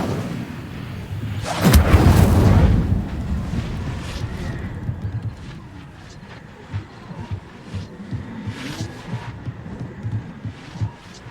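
A fire spell cast in a Harry Potter video game bursts out as a loud, broad whoosh with a deep rumble, then fades into softer game ambience with scattered light clicks and thumps.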